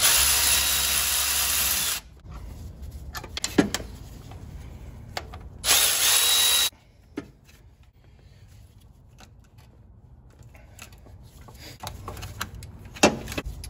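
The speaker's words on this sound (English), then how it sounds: "let's go ahead and remove the two bolts that hold the pump on, starting with this one using a 14mm socket" A socket wrench removes the power steering pump bolts on a Nissan Titan, with bursts of loud whirring from a powered tool, scattered metallic clicks and taps, and quieter stretches in between.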